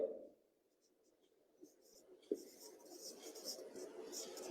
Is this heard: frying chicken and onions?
no